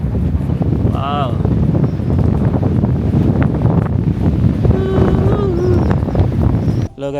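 Strong wind buffets the microphone at Bow Lake in the mountains, a loud continuous rumble that lasts throughout, with a brief faint whistle or voice-like tone partway through.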